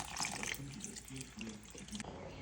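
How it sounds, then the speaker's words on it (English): Chicken stock is poured into marinara sauce in a pot, a steady liquid splashing and gurgling that runs continuously and then thins out near the end. Faint, with no talking. "I like adding chicken stock or bone broth"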